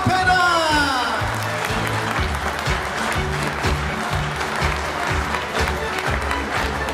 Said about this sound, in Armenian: Եվս մեկ անգամ բոլորս միասին շատ բարձր ծափերով ողջունենք զույգի ծափերը։